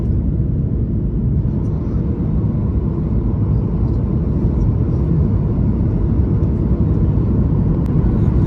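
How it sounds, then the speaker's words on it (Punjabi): Airliner cabin on a Toronto to Winnipeg flight as it comes in to land in Manitoba, heard as a constant, heavy low engine and airflow rumble with no breaks throughout. "ਲੋ ਵੀ ਜਹਾਜ਼ ਤਕਰੀਬਨ ਤਕਰੀਬਨ ਧਰਤੀ ਤੇ ਆ ਗਿਆ"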